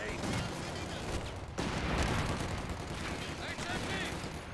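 Machine gun fire during a 3v3 battle in the game Company of Heroes 2, rapid rattling bursts and scattered shots in a busy, fairly quiet mix beneath a voice talking.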